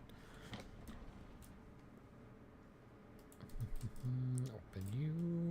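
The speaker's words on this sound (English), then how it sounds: "Hopefully the clicky-clacky of my keyboards isn't too loud for you." Clicky keys on a computer keyboard tap out scattered quick strokes under a low background hum, and then a voice talks over the typing near the end.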